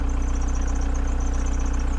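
A 1987 VW Camper engine idles steadily and close by, a rhythmic low throb with a slight hunting unevenness, running alone without voices.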